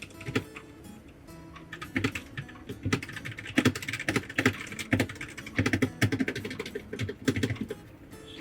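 Rapid, uneven keystrokes on a compact RK68 mechanical keyboard fitted with brown switches, a dense stream of close clicks and thocks with no talking.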